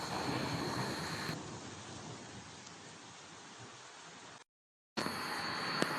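A hailstorm in the Middle East roars as a dense, steady hiss of falling ice and rain with a low rumble, then cuts to silence before the downpour resumes just as heavily.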